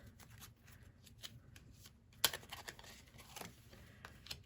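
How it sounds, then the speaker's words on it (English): Tarot cards laid out one at a time on a table, soft papery slaps, slides and taps at an uneven pace, faint and close in a quiet room, with one sharper snap near the middle. "we're going to lay out the cards, the majors, one at a time"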